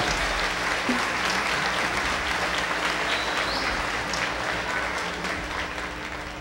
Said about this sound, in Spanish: Un aplauso porque esa es la realidad.